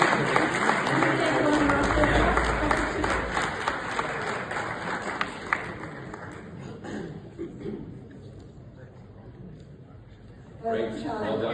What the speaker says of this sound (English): Shalini Malik, a huge round of applause for you